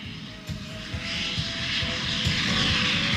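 An aircraft takes off in an anime: a loud, swelling engine roar builds steadily and becomes a broad rushing whine, with a fast low pulsing throb under it the whole way.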